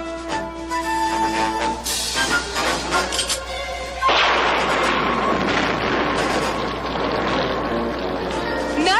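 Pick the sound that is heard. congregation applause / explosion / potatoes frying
explosion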